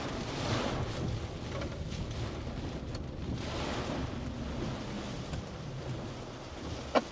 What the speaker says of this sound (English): Wind just picked up quite a bit.